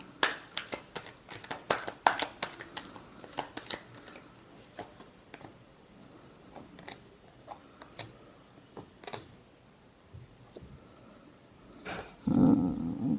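Tarot cards are shuffled in a run of quick, crisp riffles and taps close to the mic, irregular and busy at first, then sparser, ending in a louder rustle.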